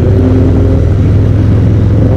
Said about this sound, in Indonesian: motor yang gue pakai ini Fat Bob 114. Nah mesinnya Milwaukee 8, mesin generasi terbaru